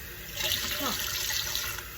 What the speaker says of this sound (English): Turn my faucet on. Get the water.